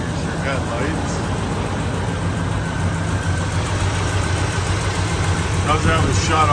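A 1978 GMC K1500 pickup with a 350 V8, headers and dual exhaust idles steadily and evenly close by, a continuous low rumble with no revving.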